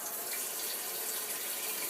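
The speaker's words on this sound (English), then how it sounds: "you want to add enough water" Tap water runs steadily into a container being filled to cover silver BBs for casting an ingot, a continuous close splashing hiss with no pauses.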